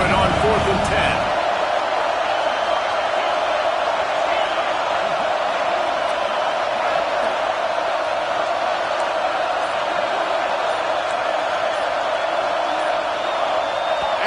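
A dense, steady roar from a packed stadium crowd at a Longhorns football game, loud and unbroken, with faint shouts within the wash of noise.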